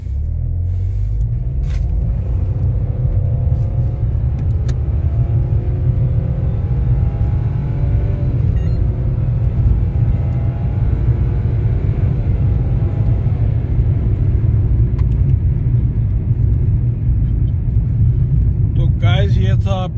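A Nissan Magnite turbo with a CVT gearbox accelerating after shifting from L to D, heard from inside as a steady, loud low engine rumble with a gently rising tone throughout.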